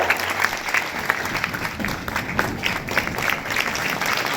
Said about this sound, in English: give them a big round of applause and welcome them